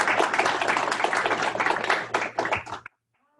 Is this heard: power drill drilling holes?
no